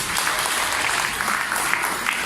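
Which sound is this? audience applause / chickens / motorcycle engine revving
audience applause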